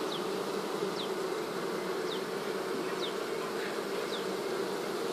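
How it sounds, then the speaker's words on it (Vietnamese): Honey bees buzz steadily around their hive, a dense continuous hum filling the whole stretch with no voices, while a few short high chirps recur about once a second over the drone. "Trên đây các chú ong này thì không biết đang làm gì."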